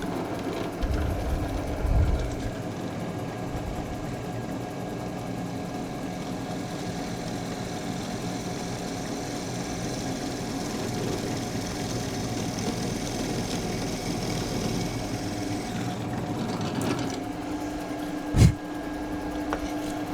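A pillar drill runs while cutting holes in wood, a steady low motor hum and vibration at moderate level throughout, broken by a single sharp knock near the end.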